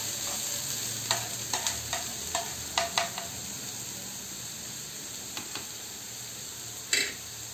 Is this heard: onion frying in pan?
yes